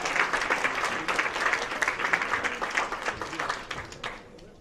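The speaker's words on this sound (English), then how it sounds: "Applaud the poet, not the points." Audience applause for a slam poet at a poetry slam, a dense, lively wash of clapping that swells and then tapers off at the end.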